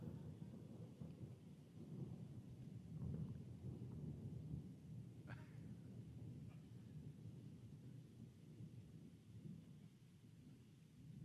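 Thunder rumbles through a lightning storm with rain falling, a long, deep rolling roar that swells around the middle and slowly fades, distant and heavy, with faint crackles and no voices.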